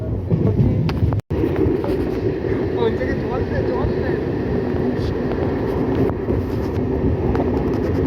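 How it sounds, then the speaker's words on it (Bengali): A MEMU special train from Howrah to Purulia runs along, heard from inside the carriage as a loud, steady rumble and rattle throughout, with a brief dropout near the start and someone talking over it. "দেখতে পাচ্ছ ট্রেনে আমি এখন যেতে চলেছি পুরুলিয়া"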